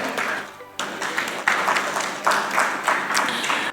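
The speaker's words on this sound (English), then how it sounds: "Please join me in welcoming all the panelists upon the stage with a big round of applause" An audience claps to welcome panelists onto a stage at a healthcare discussion event, moderate applause that swells in several waves with brief dips between.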